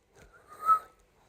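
A guard's whistle gives a short, faint blast that swells to a peak and fades within a second, as a railway story sound effect.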